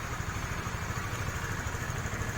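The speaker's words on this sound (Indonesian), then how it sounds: "motornya sudah nyala dan hidup dengan baik" A Honda Sonic motorcycle engine idles close by with a steady, rapid ticking putter and a faint high whine, alone and without voices.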